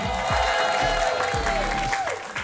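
A comedy-show audience claps for the host in Alabama, a continuous wash of applause over steady music with a low rhythmic thump, loud and close.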